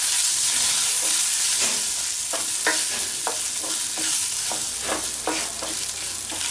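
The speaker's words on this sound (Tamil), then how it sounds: "இது கூட நம்ம நுணுக்கி வச்சிருக்கிற ஜீரகம், மிளகு, பூண்டு அதை போட்டு நல்லா வதக்கணும்" Crushed cumin, pepper and garlic sautéing in a pan for South Indian paruppu rasam, a steady close sizzle with scattered crackles and pops as the spices are stirred.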